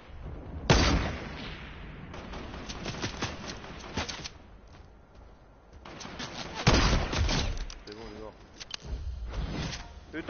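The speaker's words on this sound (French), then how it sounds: "Ah, on tire dessus." Bursts of video game gunfire crack out in two loud clusters, early and again midway, over a busy game soundscape while players talk.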